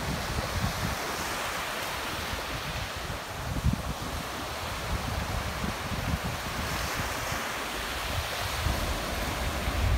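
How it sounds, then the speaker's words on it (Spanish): Steady wind buffeting the microphone over continuous surf breaking on a choppy beach at El Mojón, San Pedro del Pinatar, loud and unbroken throughout with no voices. "Hace un poco de aire."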